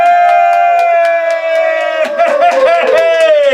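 Crowd cheering and whooping for the winner of the 2019 Sjporr Challenge, a loud burst of voices that swells after a sustained tonal sound and continues to the end.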